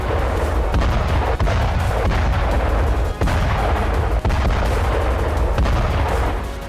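Heavy thermobaric bomb blasts and artillery fire from war footage of the Russia-Ukraine conflict, a loud continuous roar punctuated by sharp booming impacts, with no voices.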